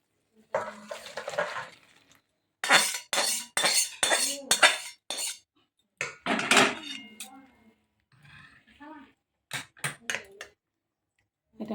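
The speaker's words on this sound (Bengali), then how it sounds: "ঢেলে নিচ্ছি।" Cooked milk-taro (dudh kochu) stalk dish being poured from a pot into a serving dish, with scattered clinks and scrapes of metal utensils in short bursts, and a voice speaking between them.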